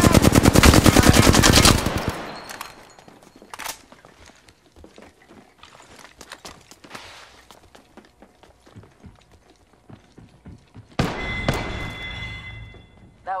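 Rapid machine-gun fire in the video game Apex Legends: a loud sustained burst opens, then quieter thuds and footsteps, and a second close burst of shots follows near the end.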